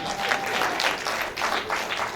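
An audience at a tech conference claps steadily, a dense round of applause from a roomful of people, continuous for the whole stretch.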